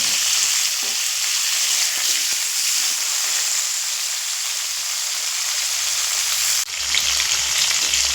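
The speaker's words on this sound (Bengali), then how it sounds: "ভেজে নেব এমনভাবে ভাজবো যেন পুরোটাই সিদ্ধ হয়ে যায়" Whole flat beans and potato pieces fry in a hot pan with a loud, steady, hissing sizzle that runs unbroken for several seconds, with no voices.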